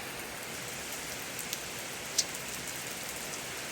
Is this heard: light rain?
yes